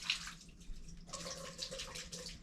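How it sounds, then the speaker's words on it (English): Water pours into a soap container in a faint, steady trickle lasting a couple of seconds, with no voices over it. "So I just pour like some of the water in like this."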